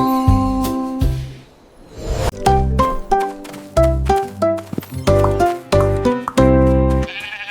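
Sheep bleat over a gentle lullaby melody with soft bell-like notes, several clear bleats rising above the music in a calm bedtime-song setting.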